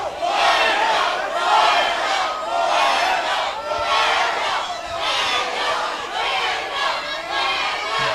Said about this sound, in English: This crowd is going absolutely crazy for these two.